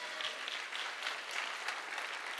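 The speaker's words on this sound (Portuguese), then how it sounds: "Você pode aplaudir o Senhor Jesus?" Congregation in a church applauding together, a dense, steady wash of many hands clapping at fairly even loudness throughout, without voices standing out.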